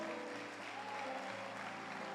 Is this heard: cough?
no